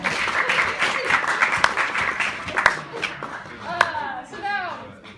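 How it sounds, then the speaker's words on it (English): A class at a biology review session breaks into applause, a burst of clapping that thins out as voices chatter over and after it. "I feel like it deserves a round of applause."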